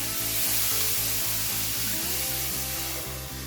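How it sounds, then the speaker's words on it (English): Mackerel sizzles in oil in a lid-covered frying pan: a steady, loud hiss with no pauses, over a repeating low rhythmic background. "add your mackerel on the pan. Make sure you cover it with any pan lid"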